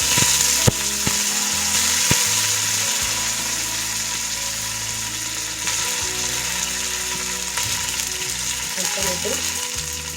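Curry leaves and cumin seeds frying in hot oil give a steady sizzle with occasional crackles and clinks of a spoon against the pan, while a voice speaks briefly.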